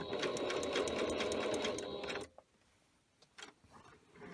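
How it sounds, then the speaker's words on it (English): A sewing machine back stitches along a bag seam in a steady, loud run of rapid needle strokes for about two seconds, then stops abruptly, leaving quiet room noise with a few faint clicks and handling sounds. "By back stitching."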